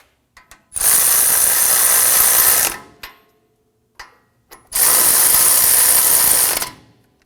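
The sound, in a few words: ratchet snugging down Ford F-150 hub bolts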